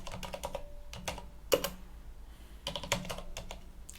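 Keys clatter on a computer keyboard in quick, uneven runs of soft, close clicks, with a few brief pauses between bursts and no voices.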